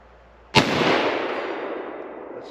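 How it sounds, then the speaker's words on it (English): A single loud crack from a No.4 Mark 1 Lee Enfield .303 rifle fired at a distant steel plate, the sharp report followed by a long rolling echo that fades slowly outdoors. "Shooting at the distant plate."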